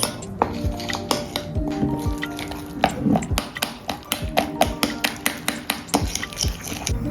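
Baby food ingredients stirred together in a bowl, a steady run of close, repeated taps and scrapes of a utensil against the dish, rhythmic and fairly loud with no talk.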